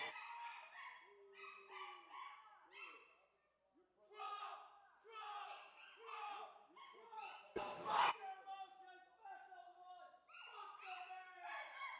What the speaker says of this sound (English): your yelling appears to be upsetting your own dog